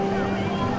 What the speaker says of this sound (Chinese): 海风好大呀